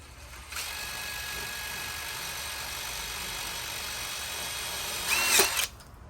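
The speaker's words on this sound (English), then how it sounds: "we're just going to use 1 3-inch screw, and we'll just run that in, and that will secure our dowel stick" Power drill driving a single 3-inch screw into a wooden dowel for a portable chicken perch: a steady, close motor whir lasting about five seconds, ending in a brief louder burst as the screw seats before stopping.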